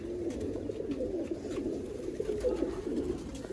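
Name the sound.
red-eyed border pigeons cooing, Sialkot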